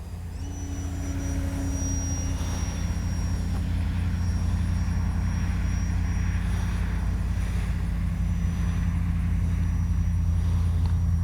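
Electric Durafly FG-1 Corsair RC model airplane flying, a steady loud motor and propeller drone that holds evenly throughout, with a faint whine on top and no talking.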